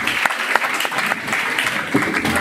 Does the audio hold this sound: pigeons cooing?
no